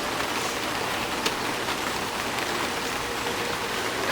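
Rain falls steadily inside a cave, a dense, even hiss of drops spattering on rock surfaces, close and continuous with no voices.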